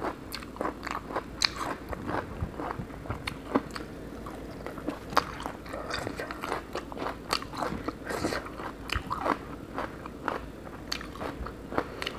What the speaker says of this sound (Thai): กรอบมากเลยค่ะ